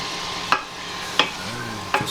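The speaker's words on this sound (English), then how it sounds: "And just keep stirring." Beef samosa filling with salt and lemon juice stirred in a pan, three sharp spoon scrapes spaced evenly over a soft constant sizzle, close and fairly loud with no voices.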